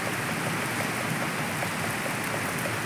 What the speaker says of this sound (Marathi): पाऊस लय चालू आहे असं मला दिसले व्हिडिओ काढताना म्हणून दाखवले